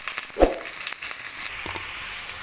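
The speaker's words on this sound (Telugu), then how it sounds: "ఈ విధంగా ఆయిల్లోకి ఆనియన్స్, పచ్చిమిర్చి, కరివేపాకు వేసుకున్న తర్వాత వీటిని దూరగా వేయించుకోవాలి." Onions, green chillies and curry leaves frying in hot oil for a fish curry, a close, continuous sizzle with crackling pops and a sharp burst near the start, no one speaking.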